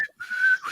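A short, clear whistled tune, a few bright sustained pitches gliding between notes, close and loud.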